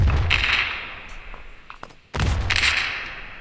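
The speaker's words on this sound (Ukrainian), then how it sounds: "А, а це була граната." Two loud, booming blasts with a noisy rumbling tail, separated by a short lull; grenade explosions in the video game Stones C.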